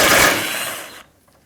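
A power ratchet or impact tool spins off a 10mm bolt holding the AC condenser line on a Toyota 4Runner of 1996 to 2002, one loud, close whirring burst of about a second that cuts off abruptly, followed by faint handling noise.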